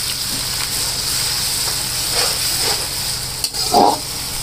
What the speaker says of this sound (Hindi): अब इसमें डालेंगे अदरक और लहसुन का पेस्ट 2 टेबलस्पून। अब इसको मैं 2 मिनट तक फ्राई करूँगी